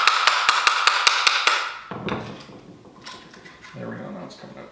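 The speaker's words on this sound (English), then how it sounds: "Sometimes you might just have to tap it with a screwdriver just to get it started and going." A screwdriver taps a plastic Airmar transducer mount in a quick run of about eight sharp, close clicks, which then give way to softer handling and scraping noises.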